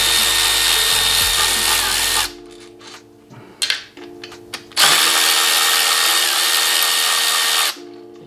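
Power drill fitted with an overly long extension, driving stainless steel bolts: a loud whirring burst for about two seconds, a quieter stretch with scattered clicks and handling knocks, then a second sustained whir lasting around three seconds.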